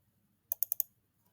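Four quick keystrokes on a computer keyboard while typing a spreadsheet formula, sharp close clicks in fast succession over a quiet background.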